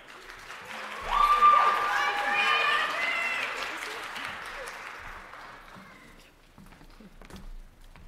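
Audience applause at a university fashion show, a loud swell of dense clapping and crowd noise that builds quickly, holds for several seconds, then fades into scattered claps.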